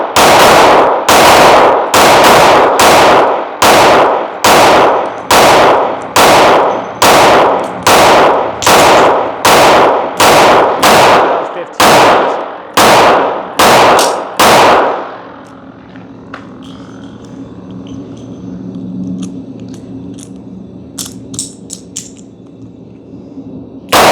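A 9mm semi-automatic pistol fires fifteen loud, sharp shots at a steady, deliberate pace, each one cracking close by. A quiet stretch with faint clicks and handling noise follows.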